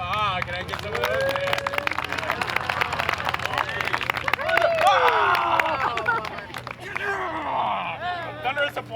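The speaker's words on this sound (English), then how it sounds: "Thunderous applause? Yeah, there we go." Scattered clapping and crowd murmur from a park audience at an evening juggling show, moderately close, with people talking and calling out over the applause throughout.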